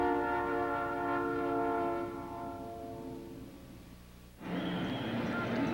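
A Southern Pacific train horn sounds in long sustained chords over rumbling rail noise, fading before a fresh burst of louder, brighter noise near the end; a voice may be faintly present.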